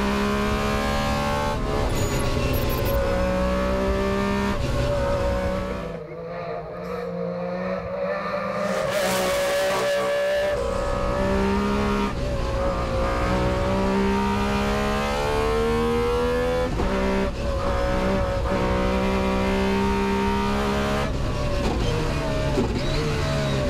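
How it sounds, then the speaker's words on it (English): An MG Metro 6R4 Group B rally car runs hard on a stage of a historic rally, its engine wailing and revving up and down through gear changes for a long stretch, loud and close throughout. "the brute power of the Group B supercar, the iconic Metro 604"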